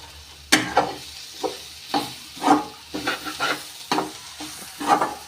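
Spoon stirring coconut and roasted gram in a cooking pan, a series of irregular scraping and rattling strokes with light frying sizzle underneath, close and fairly loud, no talking.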